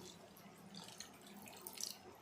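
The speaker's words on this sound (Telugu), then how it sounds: "ఇప్పుడు మనం వాటర్ పోసేసుకుందాం" Faint water splashes and trickles close by as a little water is poured into a pan of chicken curry, with a few soft drips and light sloshing.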